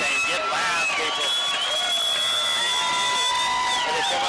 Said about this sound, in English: Crowd to get loud right now.